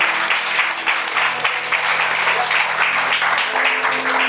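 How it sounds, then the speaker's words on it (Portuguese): A church congregation applauds during a Portuguese-language worship service, steady dense clapping sustained throughout with faint sustained tones underneath, loud and close. "As palmas louvam o Senhor."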